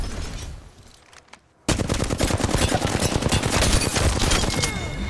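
Rapid bursts of Flatline assault rifle fire in the battle royale game Apex Legends, loud and dense after a quieter opening with a few isolated shots, continuing steadily to the end.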